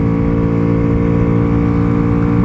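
A Honda Pop 120 motorcycle engine revs hard near its limit, a loud, steady, high-pitched buzzing drone held continuously at high rpm from close by.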